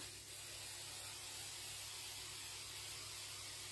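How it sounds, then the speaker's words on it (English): A steady, continuous hiss of aerosol hairspray sprayed onto a hat wreath, close and even, with no pauses. "I'm just going to spray it, especially the hat"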